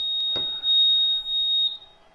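Wireless door alarm triggered when the mains power is disconnected, sounding a steady high-pitched electronic beep tone in two short bursts, close and clear with a faint click.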